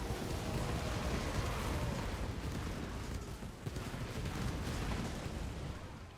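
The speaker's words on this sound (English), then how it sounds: "Cool guys, don't look at explosions." Explosions rage through a fantasy battle in the video game Total War: Warhammer 2: a dense, continuous roar of booming blasts and rumble, loud and unbroken throughout, with no clear pauses between detonations.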